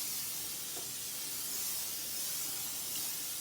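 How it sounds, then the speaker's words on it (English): Steady hissing spray from a spray bottle misting a trimmed brisket, a close, even airy rush with no talking. "I'm gonna spray it a little bit more though."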